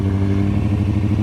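Motorcycle engine held at a steady, throaty rev before a wheelie on the road, a close, loud, continuous drone with a slight rhythmic pulse and no talk.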